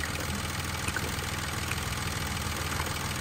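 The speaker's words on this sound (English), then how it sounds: "The engine is idling away, no problems." A car engine with a blown head gasket idles steadily and close by, a continuous low mechanical rumble with a faint knocking texture throughout and no voices.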